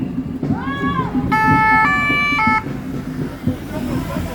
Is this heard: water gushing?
no